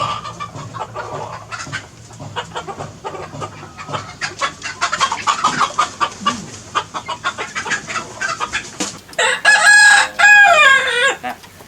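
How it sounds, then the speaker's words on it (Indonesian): Ornamental long-tailed chickens and roosters at a bamboo-coop farm in Blitar fill the air with busy clucking, and several loud rooster crows close by ring out near the end. "ayam yang ada di sini, yang diternakin di sini?"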